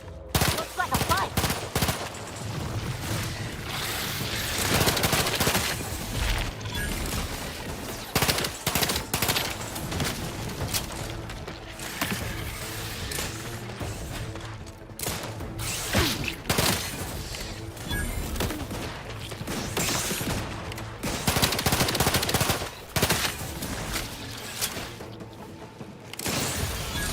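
Sustained bursts of rapid gunfire in a combat fight in The Outer Worlds 2, loud and dense with repeated sharp cracks and occasional crashes across the whole stretch, with no speech over it.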